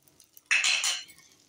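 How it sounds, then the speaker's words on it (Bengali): A metal utensil scrapes and clinks briefly in a cooking pan while cumin, turmeric and Kashmiri chilli powder are stirred. One short, close burst of stirring sounds comes through, with quiet before and after. "দিয়ে একটু নাড়াচাড়া করে নেব।"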